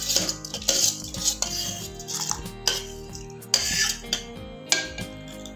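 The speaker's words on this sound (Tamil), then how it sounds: "ஸோ பச்சரிசி ஆட் பண்ணிக்கலாம்." Raw rice is added to a pot and stirred for sweet jaggery pongal. Metal spoon clinks and scrapes come in irregular bursts against the pot, close up, over a faint steady background tone, with no talk.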